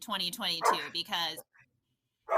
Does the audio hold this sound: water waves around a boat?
no